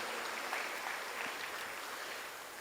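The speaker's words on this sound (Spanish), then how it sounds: "Un aplauso a Dios por ellos, que hoy van a terminar su aposento." A church congregation claps in dense, steady applause that fills the space evenly and tapers slightly toward the end.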